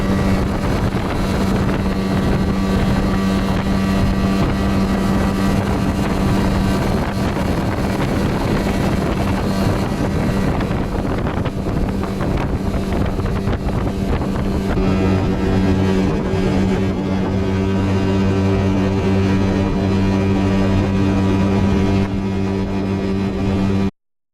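A Yamaha 8 outboard motor on a Flagman DK-350 boat with two aboard drones loudly and continuously, its pitch shifting partway through, with wind buffeting the microphone throughout.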